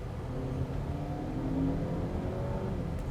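A 2025 BMW X1 with a 2-liter turbo engine accelerates, giving a steady, moderately loud engine drone with a slowly rising tone over road noise, continuous throughout.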